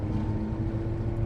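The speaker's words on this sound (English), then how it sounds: "I think the noise and the sound of the Ferrari is undeniable." Ferrari F430 engine through the stock exhaust, a steady loud low drone with a firm even hum, continuous and close, with no talk over it.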